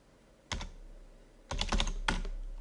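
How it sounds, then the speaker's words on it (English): Typing on a computer keyboard while filling in form fields: a few short clusters of quick, close keystrokes with quiet pauses between them. "we're going to type in quantity"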